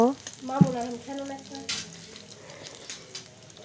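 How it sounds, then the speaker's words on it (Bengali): Black cumin and whole cumin sizzle in oil with onion and green chilli, a close crackling fry under a short stretch of speech early on, then a soft hiss with a few stirring scrapes. "কালো জিরে গোটা জিরে দিয়ে ভালো মতো মশলাটা ভেজে নেব"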